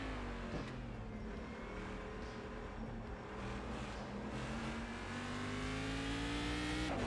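A powerful racing car in a driving video game revs its engine steadily, a continuous whirring drone that climbs gradually in pitch toward the end, heard alone without talk.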